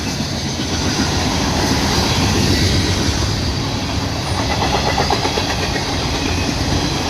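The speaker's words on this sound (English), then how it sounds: "A lot of this train's scrap metal." A CSX freight train rolls past close by in wet weather, its cars loaded with scrap metal, making a loud, continuous rumble of wheels and rattling with metallic squeals and rhythmic clacking from the rails.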